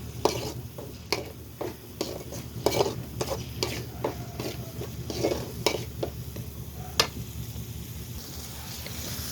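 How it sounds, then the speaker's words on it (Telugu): Masala paste for egg curry fries in oil in a pan, giving a steady close sizzle broken by repeated scraping stirs and light clinks against the pot, with no talking. "పేస్ట్ అయితే చేసేసాను వేసేసాను బాగా ఆయిల్లో వేగనివ్వండి"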